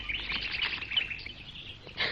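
Birds chirp in a Hindi-dubbed Jungle Book cartoon episode, a dense run of high, bright tweets close up that swells again briefly at the end.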